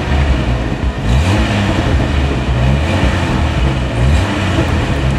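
A Jeep Wrangler YJ engine, freshly tuned up, revs loudly and continuously nearby with a throaty mechanical roar that rises and dips, with no talking.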